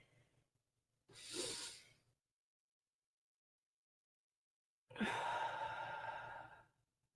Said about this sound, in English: We're gonna breathe in for 3, hold for 3, and release for 3.